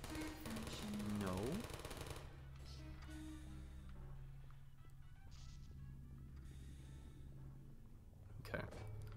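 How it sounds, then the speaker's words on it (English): Rapid mechanical gunfire from a turret in the video game Portal: Still Alive, a dense burst over a low rumbling game soundscape, with a voice speaking partway through. "Final turret. It's the boss turret."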